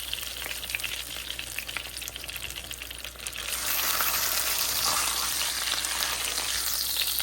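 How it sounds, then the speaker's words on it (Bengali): Pangas fish frying in mustard oil in a home kitchen pan, a steady close sizzle that swells louder and denser partway through and continues without talk. "এই যে হয়ে গেল আমার মাছ ভাজা"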